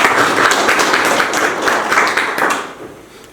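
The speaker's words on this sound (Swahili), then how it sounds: "Naomba mjipigie makofi." A room of teachers at a Montessori college event clapping for themselves, a dense, close burst of applause that thins and fades toward the end.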